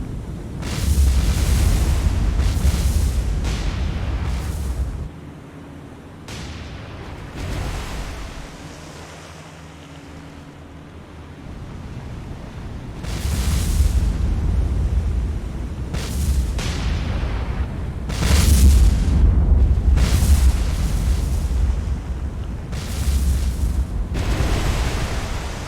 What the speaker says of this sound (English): the explosions on the shore are pretty sick.